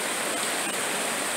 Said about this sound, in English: That's the river noise you hear in the background.